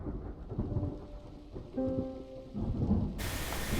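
Thunder rumbles through a steady rainstorm, rain pattering close by on surfaces while deep rolls swell and fade, ending in a louder hiss of rain.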